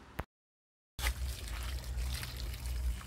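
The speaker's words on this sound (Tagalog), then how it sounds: "bubuhusan lang to ng pinapakuluan na tubig" Boiling water is poured over fresh oysters, a steady close trickle and splash that starts after a brief pause of silence and continues to the end.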